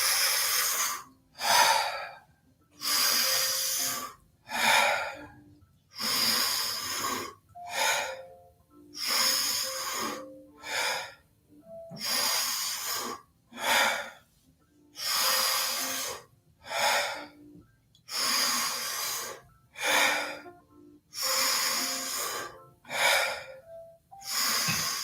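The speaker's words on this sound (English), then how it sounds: "Keep breathing just like that, at that pace." Deep rhythmic breathing in a Wim Hof method session, a steady cycle of about fourteen forceful breaths over the span, each a loud, close, airy rush in and out with brief pauses between.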